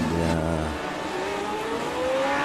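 L79 race car engine in the iRacing sim, a loud revving note that drops after a gear change then climbs steadily again as the car accelerates, with no talk.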